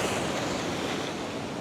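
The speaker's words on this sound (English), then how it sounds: "just watching for the waves now. You can see the wave coming in" Ocean surf rolls in as a broad, continuous wash of noise, loud and close, with slight wind buffeting the microphone and no voices.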